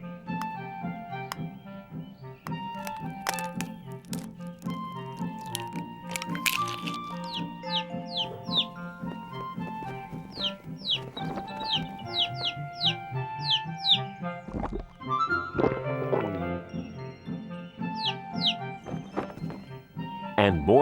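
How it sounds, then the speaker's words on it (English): Cartoon birds in an animated Bible creation story cluck and chirp in quick, bright bursts over gentle background music, with narration running alongside. "There were birds,"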